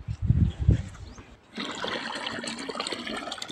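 Irrigation water runs into the furrows of a chili field, starting as a steady rushing trickle about halfway through after some low rumbling handling noise. The flow stays close and moderately loud to the end.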